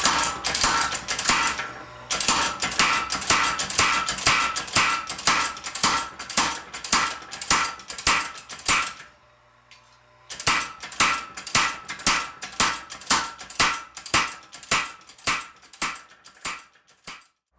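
A homemade power hammer in a knife-making shop pounds in fast, steady rhythmic strikes, pausing briefly midway before resuming its repetitive clattering beat, close and loud.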